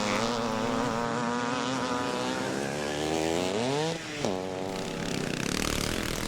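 Classic CZ 250 motocross motorcycle racing with the pack at Bennetts Hill on a drying track, engines droning loudly and steadily, then pitch sweeps upward and dips as a bike passes close by.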